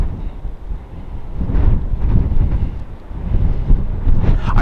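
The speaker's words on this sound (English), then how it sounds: "The winds are a constant 20 miles an hour with 30-mile-an-hour gusts." Strong gusting wind in Central Washington buffets the microphone with a loud, rough low roar that swells and eases in waves.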